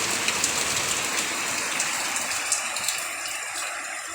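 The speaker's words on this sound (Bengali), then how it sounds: "প্রচুর বৃষ্টি হচ্ছে, প্রচুর বৃষ্টি।" Heavy rain pours down steadily, a dense, loud rushing patter of drops on surfaces with no voices.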